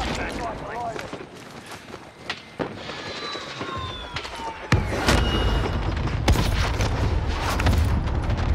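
Video-game airstrike explosions: several heavy booms and bursts, the loudest landing in the second half over a rumbling battle backdrop, with voices shouting over them.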